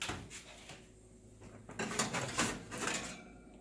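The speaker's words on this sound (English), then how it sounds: "Shutting the door as fast as I can." An oven door is shut quickly while Irish soda bread bakes, giving a faint metallic clunk and rattle amid quiet kitchen background noise.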